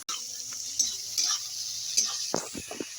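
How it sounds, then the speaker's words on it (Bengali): Onion and turmeric spice paste cooks in oil with a soft, quiet sizzle, punctuated by a few light utensil clinks and a cluster of scraping stirs toward the end. "হলুদ বাটা দিয়ে মশলাটা পেঁয়াজের সঙ্গে ভালো করে কষিয়ে নেবো।"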